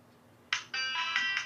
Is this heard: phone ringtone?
yes